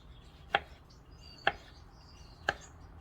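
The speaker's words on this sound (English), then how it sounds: "Then we're gonna slice it thin," A paring knife slices an apple thin, giving three crisp, evenly spaced cuts about a second apart, close and distinct over a quiet room with no talking.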